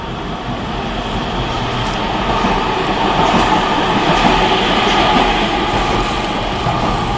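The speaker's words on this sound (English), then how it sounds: "Another train." A metro train passing close by near a tunnel portal in Rotterdam, a loud continuous rumble and rattle of wheels on track, building slightly and holding steady throughout.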